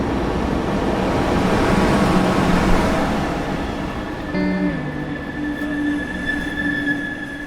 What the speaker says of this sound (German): Gleis 6, Einfahrt RE5 nach Rostock Hauptbahnhof über Neustrelitz. Vorsicht bei der Einfahrt.